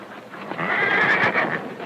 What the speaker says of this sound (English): the stranger gets a nice horse